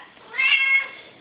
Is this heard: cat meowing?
yes